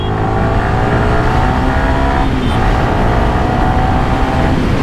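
A Yamaha R15 V3 BS6 motorcycle's high-revving engine, a loud sustained drone holding steady with a brief dip in pitch midway, heard alone.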